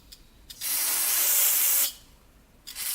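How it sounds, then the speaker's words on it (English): Brake cleaner sprayed from an aerosol can onto a leaking brake on a Honda ATV, one steady hissing burst of a bit over a second, close and loud. "Brake cleaner down here."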